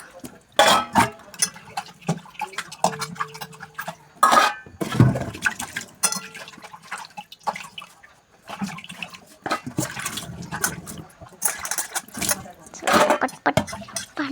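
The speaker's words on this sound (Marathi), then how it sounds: "पटकन भांडे धुवून घेते स्वयंपाकाच्या" Cooking pots and dishes being washed in a home kitchen: clattering metal, clinks and splashing water in irregular bursts, close by, with someone talking at times.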